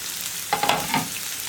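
Onion, ginger, curry leaves and green chilli sautéing in a pan, a soft sizzle under a few quick spoon scrapes and taps against the metal, close and fairly quiet with no talking.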